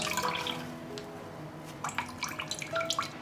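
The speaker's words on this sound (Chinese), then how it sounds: "用纱布袋把汁过滤出来， 把这个汁全部挤干净。" Bamboo leaf juice squeezed through a gauze bag while making traditional rice dumplings gives soft dripping and trickling liquid sounds, faint and irregular, with small splashes near the end and no speech.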